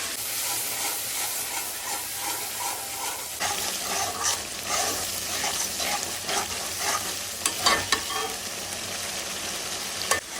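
A spice paste with chilli and turmeric powder fries in a pan for chicken korma, hissing and sizzling steadily while a spatula stirs and scrapes, close up with no talk.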